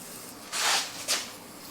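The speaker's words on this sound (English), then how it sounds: "This is the Power Lube with PTFE." Two short hissing bursts of Power Lube PTFE spray lubricant, the first longer and the second a quick puff, close by and alone.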